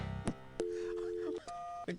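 Telephone being dialed and ringing in the You Don't Know Jack video game: a few clicks and short steady tones, including a held electronic tone and a higher one, fairly quiet, with brief sounds between them.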